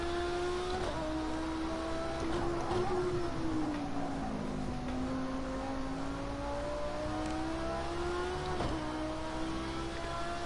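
A GT3 race car engine at Daytona in Project Cars 2 holds high revs, easing down then climbing again through a gear shift, steady and fairly faint.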